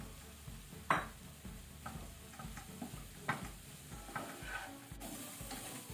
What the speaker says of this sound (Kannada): ಇದನ್ನು ಸ್ವಲ್ಪ ಹೀಗೆ ಫ್ರೈ ಮಾಡುವ.